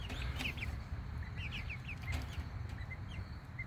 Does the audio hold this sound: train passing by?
no